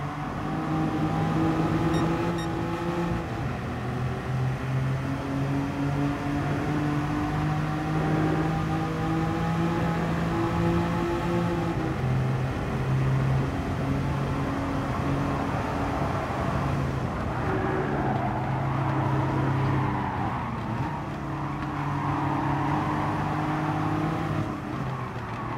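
Race car engine at full throttle in GT Sport, droning steadily and loudly with rising and falling pitch as it accelerates through gear changes, running continuously with no talk.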